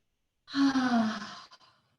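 A single deep exhale during a yoga class, a soft, breathy sigh that swells quickly and then trails off over about a second in an otherwise quiet room.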